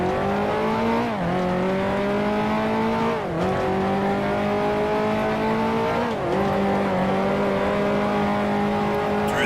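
A 1955 Formula One race car engine roars in the Grand Prix Legends game at Monaco, a loud, steady high-pitched drone that dips briefly at each gear change and climbs back, continuous throughout.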